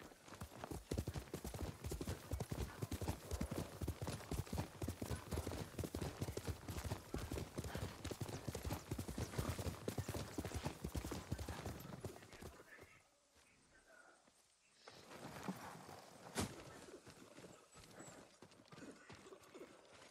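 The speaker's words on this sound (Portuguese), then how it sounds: "Bom cavalo." Horse hooves clip-clop steadily in the video game Ghost of Tsushima, a fast, dense run of close hoofbeats that drops away briefly near the end before resuming, with faint talk mixed in.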